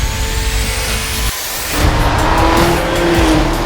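A 2016 Volvo S60 Polestar accelerates hard with a loud, steady engine roar, a brief dip partway through before the revs build again with rising tone.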